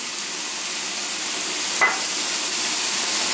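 Curry paste and onions frying in a pan, a steady, even sizzle with a brief scrape or tap near the middle, close and continuous, with no talk.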